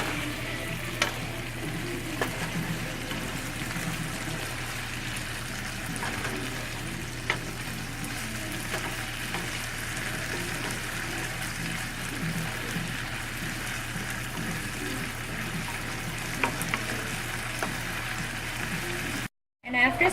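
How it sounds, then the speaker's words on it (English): Bitter melon (karela) stir-fried in an open pan: a steady, close frying sizzle runs throughout, with occasional sharp clicks and scrapes of stirring, ending abruptly. "Stir for a little bit."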